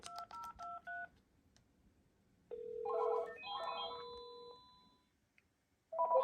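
Electronic DTMF telephone dialing tones on a Panasonic phone extension: a quick series of keypad beeps, then a longer run of layered ringing tones, then more dial beeps.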